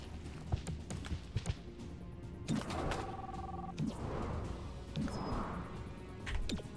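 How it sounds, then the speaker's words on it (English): A telephone rings in the XCOM: Chimera Squad video game, a short, faint ring heard once among quiet game effects and scattered clicks. "Sir, there's a phone ringing."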